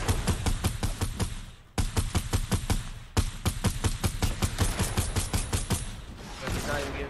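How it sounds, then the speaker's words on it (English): Rapid automatic gunfire rattles through a Fortnite Battle Royale match in dense, loud bursts with brief pauses between, the shots close and continuous for most of the stretch. "they're shooting me down."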